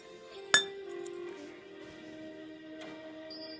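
A glass of water is set down on a hard surface with a single sharp clink near the start. A faint ring and a low steady hum linger in an otherwise quiet room.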